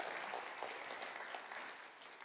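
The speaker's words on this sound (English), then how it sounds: "Yeah, and you're even allowed to clap for that." Audience applause in a hall during a church talk, brief and fairly faint clapping from a crowd at some distance, lasting about two seconds.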